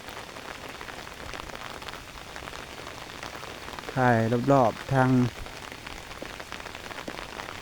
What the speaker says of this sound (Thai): มีแต่ฝนตกยาวๆเลยน่ะ